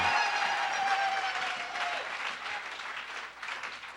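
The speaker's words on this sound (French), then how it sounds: "Applaudissons le Seigneur." A church congregation applauds during an evangelistic service, a loud, continuous patter of many hands that slowly thins, with a brief trailing voice at the start.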